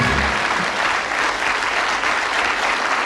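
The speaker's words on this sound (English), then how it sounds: "Give them a nice round of applause." Studio audience applause on a UK darts-themed game show, a loud, sustained wash of clapping with a faint murmur of crowd beneath it.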